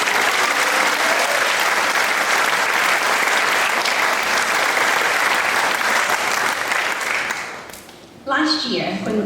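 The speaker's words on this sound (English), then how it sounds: "Give yourself a round of applause." At a Cabaret vs Cancer charity show, an audience breaks into loud, sustained applause that fills about eight seconds. It fades briefly at the end before a voice starts speaking.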